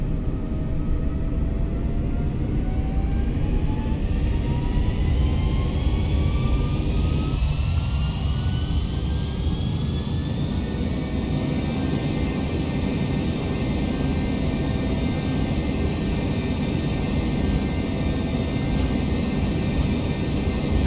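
Jet engines spool up to full takeoff power in Flight Simulator X for a departure from Bergerac, a loud, steady roar with a whine that climbs in pitch over the first ten seconds and then holds, filling the whole stretch without talk.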